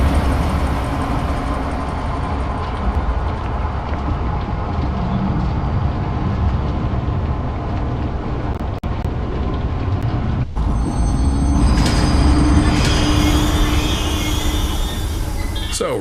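A train carries riders toward the giraffe enclosure in the game Zoochosis: a loud continuous rumble and rolling clatter, with a brief jolt partway and a brighter mechanical whine toward the end, and a voice talking over it.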